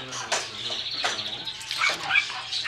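A dog yips and whimpers in short high bursts, close by, while a person talks to it in a friendly voice.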